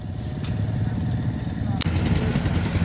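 A Ural K-750 motorcycle engine runs steadily on a muddy off-road course, a low continuous rumble with a sharp crack partway through.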